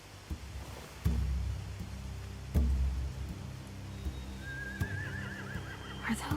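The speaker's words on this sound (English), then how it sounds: "They have horses." Horses whinny inside a stable aboard a large boat, with a rising wavering neigh near the end over low rumbling background noise and a few dull knocks.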